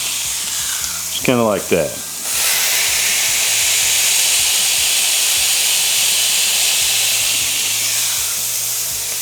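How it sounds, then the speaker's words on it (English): Smashed burger patties sizzling loudly on a flat griddle, a strong, continuous hiss with steam, preceded by a brief spoken phrase and a short scrape near the start. "Hope you can see me through that steam off them beautiful burgers cooking there"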